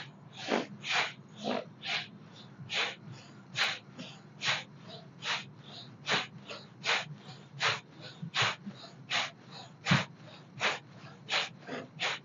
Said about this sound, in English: This is dynamic breathing, okay?